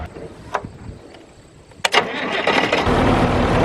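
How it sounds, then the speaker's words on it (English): An engine cranking and catching on a tractor that drives an Oxbo BH100 one-row green bean picker through its PTO: a couple of sharp clicks, then a rising, steady mechanical roar settling into a loud running sound. "Let me turn it on real quick and give you a look at how this works."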